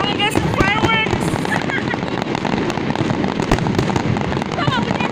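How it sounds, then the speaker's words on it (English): New Year fireworks display in Abu Dhabi crackles and pops continuously with sharp bursts amid crowd noise and wind, loud and busy, while people talk over it. "Yeah, but we have the longest fireworks."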